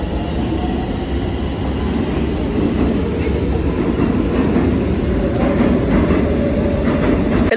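Riding a Cairo metro train near the Opera station: a loud, continuous rumble with rail clatter and faint wheel squeal filling the whole stretch, voices murmuring underneath.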